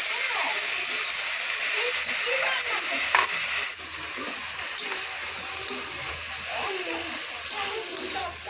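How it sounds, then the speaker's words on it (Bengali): Onion paste hits a pan where dried fish is frying, producing a loud, close sizzle that drops to a quieter crackle after a few seconds, with scattered spatters and some background voices. "তো এখানে আমি পেঁয়াজ বাটাটা দিয়ে দিলাম।"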